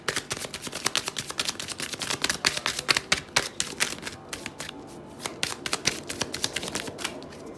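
A deck of affirmation cards being shuffled: continuous close papery flicks and riffles in quick irregular bursts, several seconds long, with no talking.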